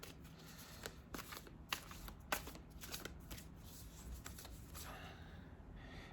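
Tarot cards being shuffled and pulled from the deck, a quiet close-up run of riffling flutters and soft slaps with short pauses, no speech.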